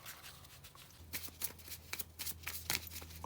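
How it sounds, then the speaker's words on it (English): Tarot cards being shuffled by hand, with quiet crisp riffling bursts in an uneven rhythm over a low steady hum, close and alone. "Let me pull some more cards."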